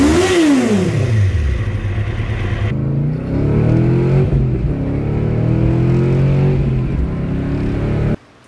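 A 900-horsepower car engine warming up, loud and close, with a revving sweep at the start followed by a steady, throbbing idle with small rises in pitch before it cuts off abruptly.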